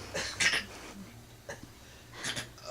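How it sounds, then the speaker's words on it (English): A few short, harsh coughs or throat bursts in a quiet room, close and fairly loud, separated by brief pauses. "Oh, that's a horrible cough."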